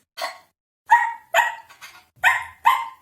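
A dog barks in six short, sharp bursts spaced irregularly over a few seconds, close and clear with quiet gaps between each bark.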